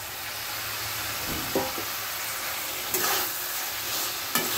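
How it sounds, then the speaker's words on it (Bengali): Fried potatoes and capsicum being sautéed and stirred in a pan of spiced masala for a fish curry, a steady close sizzle with a few brief scraping stirs. "আর ভালো করে সাঁতলে নেব।"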